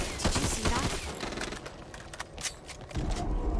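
Gunfire from shooting zombies in the co-op shooter Back 4 Blood, a series of quick, fairly quiet close shots and bursts with game clatter between them and a renewed flurry at the end.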